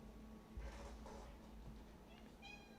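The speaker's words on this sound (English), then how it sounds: "I got a kitty here." A cat meows faintly in an indoor room, a few short high calls near the end over low background hum.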